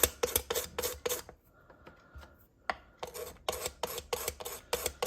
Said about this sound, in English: with your Stanley knife, I just scrape the pastels into one of these little cells